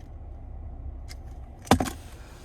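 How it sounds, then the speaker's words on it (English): A Nissan Frontier PRO-4X key fob with remote start is handled, giving a brief jangle of keys with a light click before it, close and fairly clear over a low background hum. "Finally, here's the key fob with remote start."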